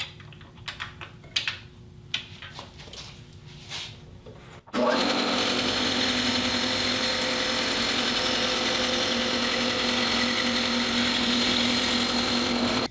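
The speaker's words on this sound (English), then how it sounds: "And that 14 teeth per inch blade gave a real nice cut." A saw with a 14 teeth-per-inch blade slices thin laminate strips from a board for guitar rosette rings. A few quiet clicks and handling noises come first, then a loud, steady, high whine holds for about eight seconds and stops abruptly.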